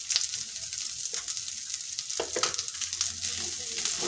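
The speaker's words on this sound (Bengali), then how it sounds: "ভালো করে কিছুক্ষণ মশলাটা কষিয়ে নিতে হবে।" Spices being fried down (kashano) in oil for doi katla sizzle steadily at close range, with scraping stirs and soft clinks from a spatula against the pan.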